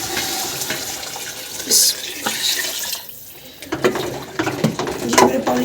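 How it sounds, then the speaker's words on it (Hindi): Water is poured into a cooking pot holding fried potatoes and peas, a continuous splashing gush with some clanking of the vessel, close and moderately loud, easing briefly before splashing again. "मैं इसमें पानी डालूँगी।"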